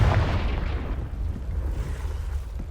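A Confringo blasting spell bursts in Hogwarts Legacy, a loud booming explosion at the start that rumbles and decays over a couple of seconds into a low lingering roar.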